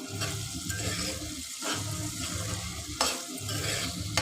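Cauliflower frying in hot oil in a pan, a steady close sizzle with scraping stirring strokes breaking through at intervals, no voices.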